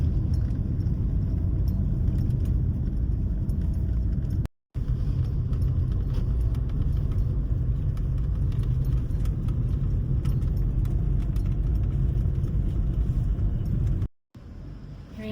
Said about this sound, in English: We're in a traffic jam.